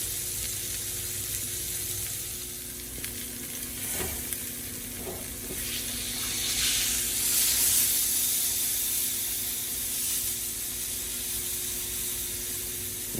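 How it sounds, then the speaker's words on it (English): A chuck roast sears in a hot pan, giving a continuous loud sizzle and hiss that swells and fades as the meat is turned, with no talking. "Now we're gonna sear the sides"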